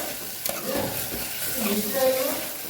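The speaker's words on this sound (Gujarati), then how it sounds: "વઘાર સાથે તરત આપણે મિક્સ કરી દેવાનું છે એટલે સાતડી લેવાનું છે" A spice tempering sizzles in a hot pan while a utensil stirs and scrapes through it, a steady frying hiss with soft clinks.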